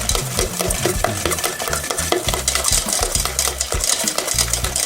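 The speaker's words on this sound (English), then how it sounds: "I'm just going to keep whisking over. The sugar and the lemon zest is going to dissolve inside the egg." A whisk beats eggs, sugar and lemon zest for lemon curd, a close, loud, rapid rhythmic clatter against the bowl that continues without pause.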